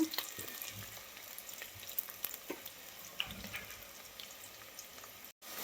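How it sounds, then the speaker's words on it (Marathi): Onion fries in a pan for egg biryani, a faint, steady sizzle and hiss with occasional light stirring clicks, quiet and close, with a brief dropout near the end. "लगेच यामध्ये आपल्याला कांदा घालायचा आहे. कांदा लाल होईपर्यंत भाजायचा आहे आपल्याला, तांबूस रंगाचा होईपर्यंत."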